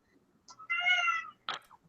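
A cat gives a single clear meow, fairly close but soft, followed by a short rustle in an otherwise quiet room.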